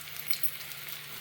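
Food frying in hot ghee in a pan for a Khandeshi recipe, a steady close crackling sizzle with fine popping, continuous and even throughout with no talk.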